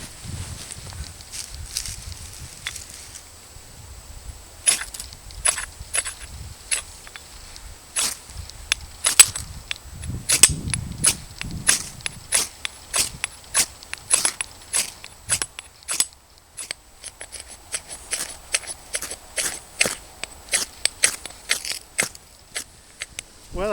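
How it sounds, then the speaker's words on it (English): Repeated sharp scrapes of a ferro rod fire steel struck with a knife outdoors, coming in irregular bursts that quicken later, with some low rustling between strikes. "I'm using my fire steel from Nathan"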